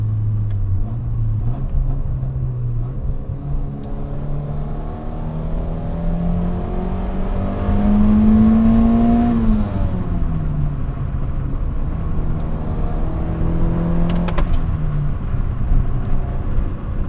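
A 1990 Nissan Pulsar GTI-R hot hatch engine revs to redline through the gears, pitch climbing high then dropping on shifts, loud and close with a sustained rumbling drone.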